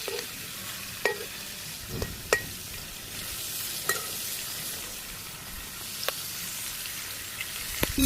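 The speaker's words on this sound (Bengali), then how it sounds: "এই যে মাছ এক কিট হয়ে গেছে ভাজি আমি উল্টিয়ে দিই" Snakehead fish frying in hot oil in a village kitchen, a continuous bright sizzle broken by a few sharp scrapes and knocks as the pieces are turned over, with no speech.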